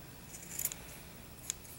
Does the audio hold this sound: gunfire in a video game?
no